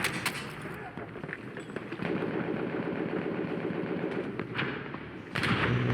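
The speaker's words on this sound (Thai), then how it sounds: "เราผมลองใช้ปืนกลตรงนี้ก่อนมา" Machine gun fire in the Battlefield 1 multiplayer video game, with rapid bursts of rattling shots and a mechanical engine-like drone continuing through the clip.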